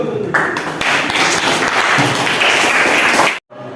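Classroom of students applauding after a group presentation, a dense, fairly loud burst of clapping with voices mixed in, ending abruptly.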